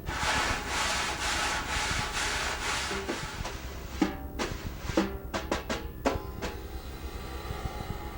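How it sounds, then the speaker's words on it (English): Wire drum brushes scrape across a surface in a continuous swishing rasp, followed by several short, sharper strokes. "brushes, which are just metal wires, which you can use as scrape sounds"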